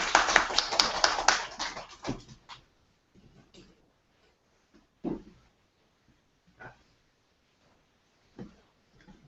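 Brief scattered clapping from a small audience at the close of a university team's presentation, loud at first and thinning after about two seconds into a few isolated claps with quiet gaps.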